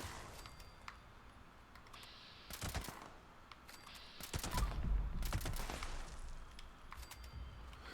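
A submachine gun with a 62-round magazine fires in a video game, with rapid bursts of gunfire around the middle and a heavier, louder stretch after, set against a steady low background.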